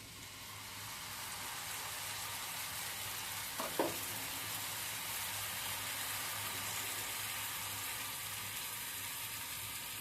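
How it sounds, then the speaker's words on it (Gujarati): Jowar flour and rava uttapam batter meets a hot griddle and sets off a steady, hissing sizzle that runs evenly throughout, with one brief clink early on. "સરસ ગરમ થઈ ગયો છે હવે આપણે આ બેટર નાખીશું"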